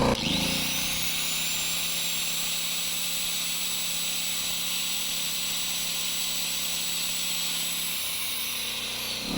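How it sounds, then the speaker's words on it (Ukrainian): An 850 W angle grinder runs off a VOIN DV-1500i inverter generator in eco mode, spinning up with a rising whine and then holding a loud, steady high-pitched drone over the generator's engine hum, with no talking. "Економічний режим 235 вольт і болгарочка на 850 Вт."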